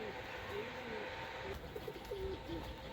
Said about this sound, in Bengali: এই যে হইতাছে ওর কবুতরগুলো